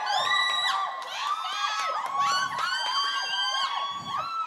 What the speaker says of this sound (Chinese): 旁边的尖叫声这么大声